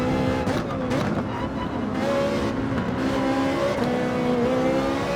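A Ferrari cup race car engine in a racing video game revs high and holds a steady, loud, buzzing tone with pitch sweeps between shifts and no pauses.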